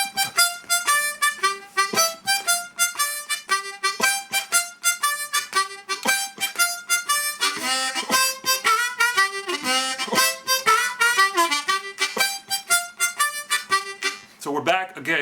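Blues harmonica box shuffle moving between the 1 and 4 chords of a 12-bar progression, loud rhythmic chugging chord pulses with steady swing, played alone without talk.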